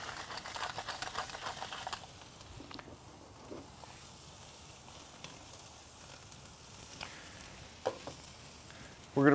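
Lobel's sweetheart steak sizzles steadily in a hot pan, a soft continuous crackle close by, with a few light clinks and bumps near the end and no talking.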